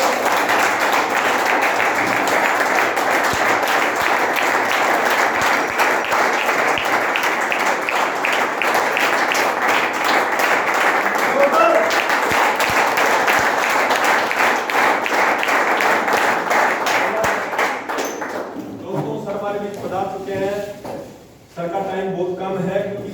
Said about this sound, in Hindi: खड़े होकर जोरदार तालियों के साथ स्वागत करेंगे मिस्टर दयाराम जी मीणा सर